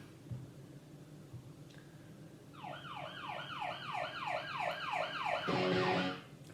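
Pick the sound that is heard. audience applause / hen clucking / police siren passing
police siren passing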